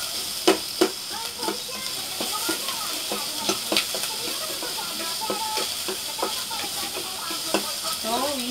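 Garlic and onion frying in a pan for a dried meat soup, with a steady sizzle and hiss broken by scattered clicks of stirring and scraping throughout.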